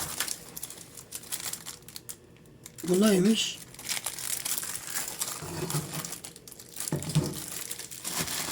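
A plastic bag crinkles and rustles as it is handled at close range in a hotel bathroom, with several bursts of crackling between quiet stretches and someone speaking briefly.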